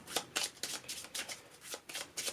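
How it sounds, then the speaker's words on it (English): A deck of game cards for Marvel Champions is shuffled up close, with about eight quick riffling bursts in an even rhythm. "Shuffle up my deck."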